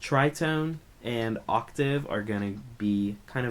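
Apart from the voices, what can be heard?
No everyday noises stand out.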